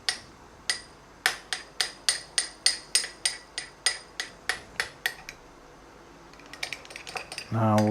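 A utensil clinks against a bowl in about a dozen sharp, evenly spaced taps while piri piri seasoned fajita mixture is mixed. A pause follows, then softer rattling and a closing clatter, all close and with no talk.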